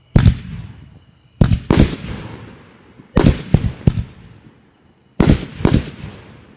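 A 19-shot willow fireworks cake fires in a backyard show, loud sharp bursts arriving in uneven clusters of two or three, each followed by a fading crackling tail, with short quiet gaps between volleys.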